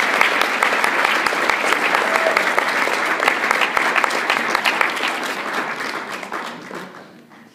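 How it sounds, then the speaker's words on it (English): An audience at a dance academy charity event applauds steadily, a thick, sustained clatter of many hands that gradually tapers off at the end. "Let's give them a nice round of applause"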